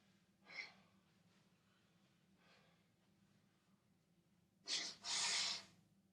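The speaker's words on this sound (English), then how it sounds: "Blow my nose again." A man blowing his nose during a break in a kettlebell swing workout: a faint sniff first, then two loud, forceful honks close to the microphone near the end, with quiet breathing between.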